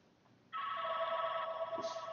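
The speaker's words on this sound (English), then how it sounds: "I don't have anybody to answer the phone in the other room, so it's gonna ring." A landline telephone rings in another room, one steady electronic ring starting abruptly and holding, faint and distant with no voices over it.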